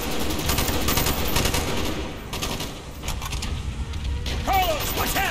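Rapid bursts of automatic gunfire and mechanical clatter from the video game Call of Duty Black Ops, loud and dense at first, easing briefly before more volleys and whizzing effects return near the end.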